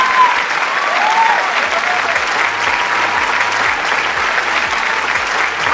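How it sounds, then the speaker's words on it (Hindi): An audience applauds at a stage event as the speaker's husband is called up, giving sustained, loud, dense clapping from a sizeable crowd, with faint background voices. "लेकिन मैं तालियां बजवाना चाहूंगी अपने हस्बैंड के लिए"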